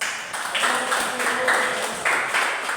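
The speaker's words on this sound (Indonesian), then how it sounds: "Sekali lagi tepuk tangan kepada kelompok." A classroom claps for a presenting group, a short burst of scattered clapping mixed with voices talking over it.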